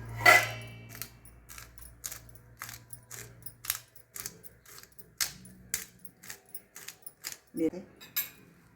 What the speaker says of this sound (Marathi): मिरी ही क्रश करून टाकते. या डबीतूनच क्रश करून येते.